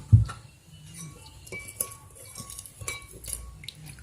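Slime being stirred in a bowl, faint wet squelches mixed with light clinks of a utensil against the bowl, close and soft, starting with one sharper knock.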